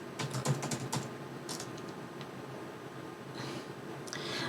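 Fingers type on a computer keyboard in quick bursts of soft clicks, with short pauses between runs, fairly quiet and close, no voices.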